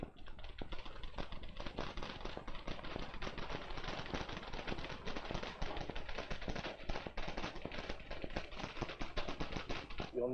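Rapid, continuous clatter of typewriter keys during a speed and accuracy typing test in an office setting, dense and even throughout, no talking.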